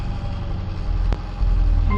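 A 1974 Austin Allegro engine idles on choke just after starting, a steady low, throbbing rumble with a brief sharp click midway, swelling a little louder toward the end.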